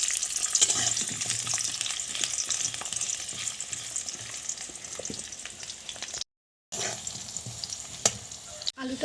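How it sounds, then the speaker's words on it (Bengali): Potatoes frying in hot oil for a Bengali sukto, a steady dense sizzle with occasional stirring clicks, close and continuous, broken by a brief silent gap. "তেলের মধ্যে আলুগুলো ভেজে নেবো"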